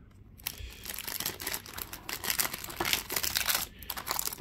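Plastic packaging is cut away from a Tarmac Works toy car box with scissors, with close, soft crinkling, rustling and snipping sounds throughout.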